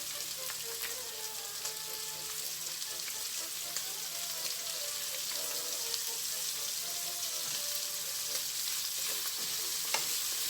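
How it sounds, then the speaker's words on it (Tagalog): Pork sautés in a hot pan for chopsuey, giving a continuous even sizzle with light scraping from stirring throughout, no voices. "Igisa na lang natin siya hanggang sa maging golden brown yung ating pork."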